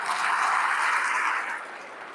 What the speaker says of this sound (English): Can we give him a very big hand clap?